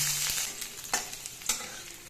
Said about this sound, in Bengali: চার পাঁচ কোয়া রসুনটা দিয়ে দেবো